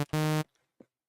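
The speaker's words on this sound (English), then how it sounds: "so I could put notes straight into the Surge and they sound like this" A single held note from the Surge software synthesizer, a bright buzzy tone with a rich stack of harmonics, sounds loud for about a third of a second and then stops, leaving near silence with a few faint blips.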